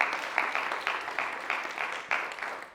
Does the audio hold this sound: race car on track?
no